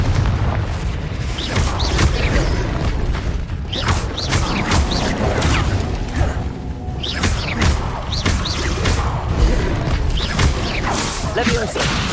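Fire-spell explosions burst repeatedly in a Hogwarts Legacy combat scene, loud booms and whooshing blasts piling up over a steady battle din, with shouted spell voices mixed in.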